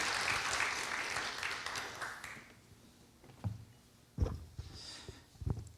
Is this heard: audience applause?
yes